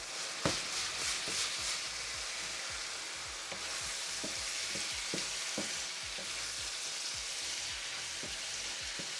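Octopus and onions sizzling in a frying pan while being stirred and mixed, a steady hiss of frying with repeated scraping and clicking strokes of a utensil against the pan, close and moderately loud, no one speaking.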